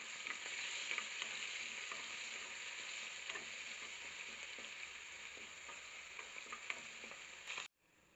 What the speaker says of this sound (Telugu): అల్లం వెల్లుల్లి పేస్ట్ వేసుకుని ఫ్రై చేసుకోవాలి.